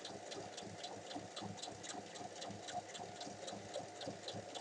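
A sewing machine running steadily while stitching a 1 cm hem along the bottom of a cotton t-shirt, a fine continuous rattling hum with quick regular stitch pulses, fairly quiet and alone.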